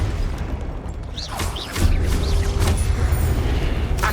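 A Confringo blasting curse in Hogwarts Legacy: a swelling magical whoosh with sweeping tones gives way to a heavier booming impact and sustained rumbling crackle, loud and close, with no talking.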